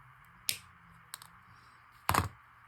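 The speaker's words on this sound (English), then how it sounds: "I'll have to cut them off with the pliers" Pliers snip rhinestone star earrings in a few sharp, quiet clicks, one near the start, a faint one mid-way and a louder crunchy cut toward the end, with near-silence between.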